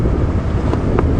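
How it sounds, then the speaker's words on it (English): Strong wind buffets the microphone during an early-morning safari drive at Djuma Game Reserve, a loud, steady low roar of gusts throughout with no talking. "It's quite windy here, as you can see from the bushes in the background"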